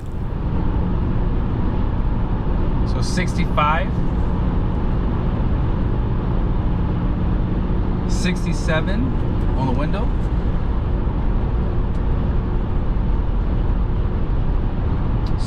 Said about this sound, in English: Let's see how loud this truck is inside the interior.